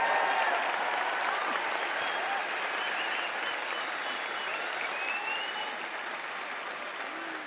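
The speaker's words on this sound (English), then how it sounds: "Give yourselves a clap." Graduates applaud at a university graduation ceremony, a large hall of steady sustained clapping that starts strong and slowly tapers in loudness.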